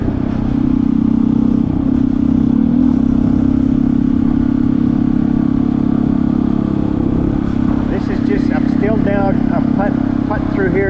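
Honda CT125 motorcycle with a big bore 142cc engine riding at speed in fourth gear, a steady mid-pitched engine drone with wind rumble, then rising as the throttle opens near the end.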